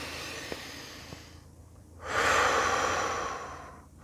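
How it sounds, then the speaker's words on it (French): Slow deep breath taken as part of a cardiac-coherence relaxation exercise: a quiet inhale, then a longer, louder exhale lasting about two seconds, close to the microphone with no talking. "Donc tu vas respirer profondément, 5 secondes par exemple, et tu vas expirer 5 secondes."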